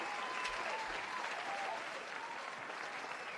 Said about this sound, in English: And that clapping is a lot.